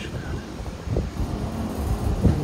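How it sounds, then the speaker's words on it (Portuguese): An electric fan runs in a hot room beside a computer, giving a steady, close whooshing hum with slight rises and dips throughout. "Desculpa o barulho aí, meu ventilador."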